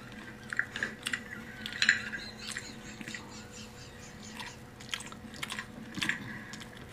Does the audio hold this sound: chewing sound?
yes